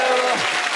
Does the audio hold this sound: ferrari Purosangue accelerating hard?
no